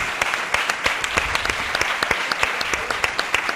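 Studio audience applause at a political talk show, a dense, steady round of clapping from many hands at close range, without speech over it.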